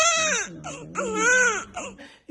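Newborn baby crying in loud, strained wails with rising and falling pitch, three bursts separated by short catches of breath, close and alone.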